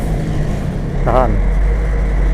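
Road traffic around a bus in Bukittinggi: a steady low engine hum with a brief passing vehicle or horn-like tonal sweep midway, and a voice talking over it.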